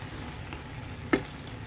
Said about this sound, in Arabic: هي كطيب وأنا كنفرتتها